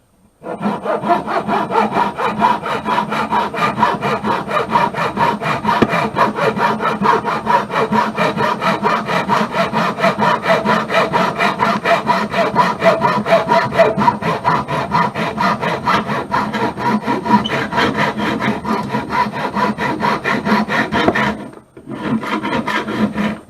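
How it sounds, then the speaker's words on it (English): A hacksaw cuts through aluminum stock for a sewing machine extension table, giving a loud, steady back-and-forth rasp of fine teeth that continues for the whole stretch, with one brief pause near the end. "I prefer to use the hacksaw because it's got finer teeth."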